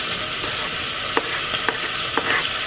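Onions sauté in hot oil and rendered fat with a steady, close sizzle, broken by a few sharp scrapes and taps of a utensil stirring the pan.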